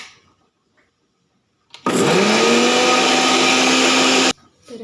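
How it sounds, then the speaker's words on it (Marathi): A mixer grinder whirs loudly for about two and a half seconds grinding cumin, garlic and coriander, starting abruptly after near silence and cutting off sharply, with no talk over it. "हे आपण बारीक करून घेऊया मिक्सरमधनं"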